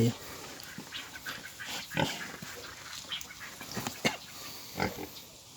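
A young Duroc breeding sow, a gilt in her first heat, gives scattered short grunts and snorts nearby in a pig pen, between quiet stretches, with a voice talking faintly in the background.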